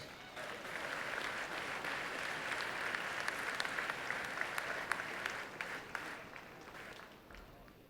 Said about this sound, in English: join me in one last round of applause for our class of 1969